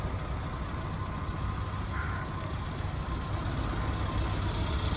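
A 1995 Suzuki Jimny Sierra with its 1.3-litre 8-valve four-cylinder engine runs steadily, a continuous low idling rumble that stays constant and fairly close throughout, with no talking.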